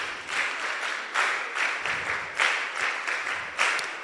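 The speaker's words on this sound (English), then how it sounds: "Give her a round of applause." Audience applause at a mentorship session, rhythmic clapping from a modest crowd with repeated bursts of louder claps pulsing through several seconds, no voices over it.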